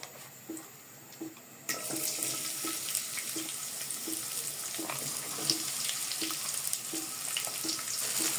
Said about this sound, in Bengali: তারপর তেলগুলো গরম হলে পেঁয়াজ কুচিগুলো দিয়ে দিব